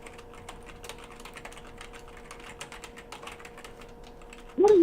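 Close keyboard typing as a steady run of light, rapid key clicks under a low background hum, ending in a sudden louder burst.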